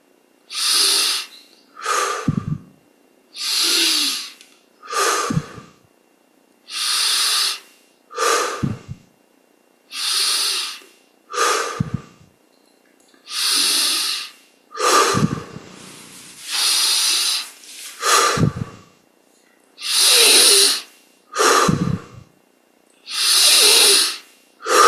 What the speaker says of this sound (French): 20 grandes respires pour prendre de l'élan. Inspire par le nez,